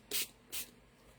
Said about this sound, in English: we're going to use a spray bottle full of water. And I'm just going to start spraying that